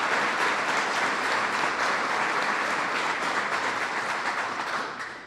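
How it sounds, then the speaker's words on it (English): An audience at a White House infrastructure summit gives a sustained round of applause for public officials. The dense clapping is steady and moderately loud, then fades slightly at the end. "Let's give all of these great public officials a rousing round of applause"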